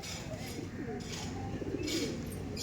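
A male pigeon coos softly from nearby in a loft, its low repeated calls faint beneath steady background noise and murmur.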